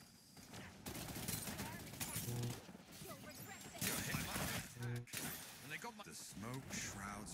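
Gunfire in a video game, bursts of rapid shots and crackling fusillade with impacts, heard over excited game voices and sound effects, fairly quiet overall.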